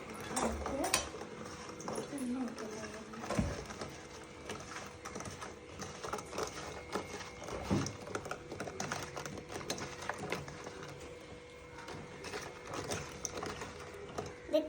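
Rose apple pieces are mixed with spoonfuls of chili powder in a bowl, with repeated scraping, clinking and rattling as the spoon works through the fruit, while a voice talks over it.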